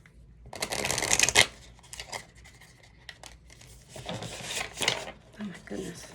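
Tarot cards get shuffled up close in quick riffling bursts, a loud flurry early on followed by softer intermittent rustles and card taps.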